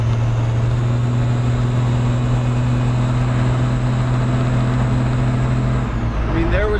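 A diesel pickup with a stock HX35 turbo, upgraded air intake and intercooler piping, running at highway speed, a steady loud drone of engine and road noise heard from inside the cab without pause.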